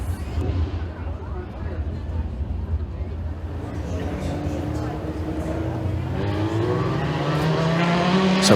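Dirt-track race cars at Eriez Speedway roaring back up to speed on a restart, a continuous loud engine drone that climbs in pitch toward the end, with an announcer talking over it.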